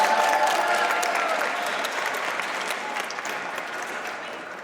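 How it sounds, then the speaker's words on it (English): Crowd at an afterschool advocacy press event at a state capitol giving a round of applause for a state representative; sustained clapping that starts strong and gradually tapers, with faint voices mixed in. "Let's give Rep. Feeder another round of applause"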